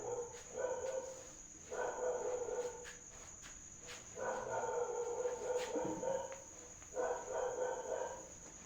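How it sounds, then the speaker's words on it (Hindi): Dogs barking outdoors in three bursts of repeated barks at moderate distance, over a steady insect or cricket drone with faint background noise. "आपको कुत्तों की आवाज़ पर ध्यान नहीं देना है, कुत्ते भौंकते रहते हैं"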